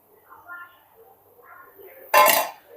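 Freshly fried crispy cheese balls clatter into a bowl in one short, bright burst of clinking, after a stretch of quiet talking.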